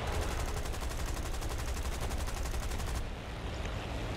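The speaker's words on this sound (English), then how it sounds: "People are shooting me" Rapid automatic gunfire in the War Thunder video game: a dense, continuous burst of fast shots for about three seconds, then it cuts off, leaving a low rumbling background.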